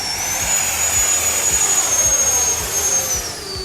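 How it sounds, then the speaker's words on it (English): An RC jet plane hovers on an 8-cell power system with a steady, loud, high-pitched turbine-like whine and a broad roar that holds without pause. "the only stock jet out of the box that can hover like this on an 8-cell system"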